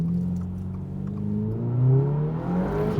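A 2022-2025 Subaru WRX accelerates hard, its engine note climbing steadily through the gears as a loud close rising whine with a brief dip and recovery mid-pull.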